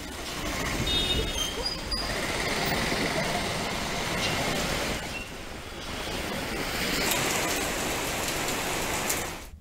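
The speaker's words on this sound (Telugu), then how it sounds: "హైదరాబాద్ లో పలు చోట్ల వర్షం పడింది" Heavy rain pours down in Hyderabad, a dense continuous hiss and patter that swells and eases slightly over time, close and loud with no voices heard.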